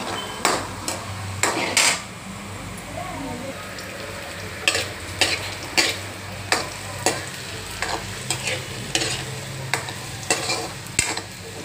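Modaks frying in hot oil give a constant, moderate sizzle, overlaid by sharp, regular knocks and clinks of a ladle against the pan every second or so, with no talking.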